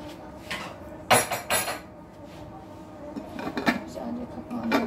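An enamel yogurt pot in a home kitchen gets its lid set on with a few sharp metallic clinks and clatters, followed by softer scraping and rattling, close up with brief quiet gaps.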